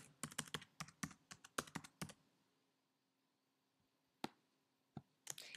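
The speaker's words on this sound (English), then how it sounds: "I'm typing right in here" Typing on a computer keyboard: a quick run of close, crisp key clicks, then a pause and a few scattered keystrokes, with no talking.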